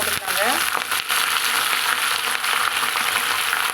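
Thuthuvalai leaves and curry leaves sautéing in a pan, a loud, close, continuous crackling sizzle with scraping stirs, alone without talk.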